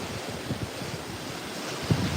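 Strong wind blowing through a large silver Bismarck palm ahead of Hurricane Milton, a steady rushing gust with rustling fronds and buffeting against the microphone, no talking.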